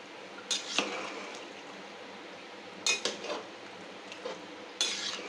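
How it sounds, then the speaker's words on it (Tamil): A metal spoon stirs rice into chicken biryani in a pot, with several scraping clinks against the pot in irregular bursts over a quiet background. "அரிசி போட்டோடனே அப்படியே நல்லா கலரி விட்டுக்கோங்க"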